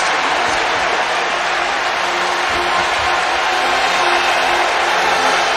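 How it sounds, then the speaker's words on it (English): A large stadium crowd at a 2019 Clemson vs North Carolina college football game roars in a steady, dense wash of cheering and applause that holds at full strength from start to finish without a break. "Now the crowd's getting cranked up."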